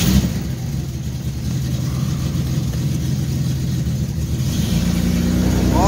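A car drives steadily through a small Middle America town, Austin, Wisconsin, its mid-pitched engine humming close and continuous with a slight rise near the end, and no voices.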